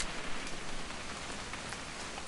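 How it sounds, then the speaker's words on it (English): Soft, steady rain falling on surfaces in the video game What Remains of Edith Finch during a hunting trip scene, a quiet continuous patter with occasional brighter drops, no voices. "It's gonna rain the whole weekend"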